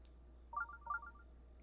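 The Sheikah Sensor alert from Zelda: Breath of the Wild, sounding when a shrine is near: a faint pair of quick, bright electronic chime pings, heard alone.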